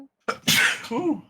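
A single sharp human sneeze bursts out close by, with a brief inhaled lead-in followed by the explosive release and a short voiced tail.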